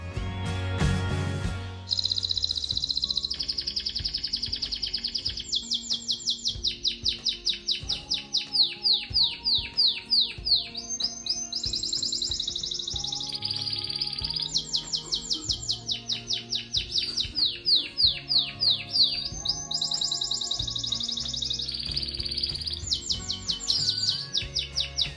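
A small pet canary sings in a home garden, long bright warbling trills and rapid repeated chirps running in phrases with brief pauses, close and clear with no talk.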